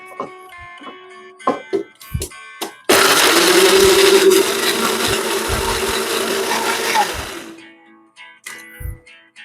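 A mixer grinder purees three medium tomatoes, cut and deseeded, into paste in a mixing jar, with a loud steady whirring roar lasting about five seconds. Clinks and knocks of handling the jar come before and after.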